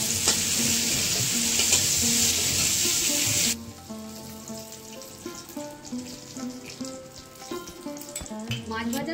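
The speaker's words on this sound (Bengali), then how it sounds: "চিংড়ি মাছ খুব বেশি ভাজার দরকার নেই, অল্প করে ভাজলেই ভালো হয়" Prawns sizzle loudly in hot oil at first, then the frying suddenly drops to a quieter crackle with soft stirring sounds, close up and without speech.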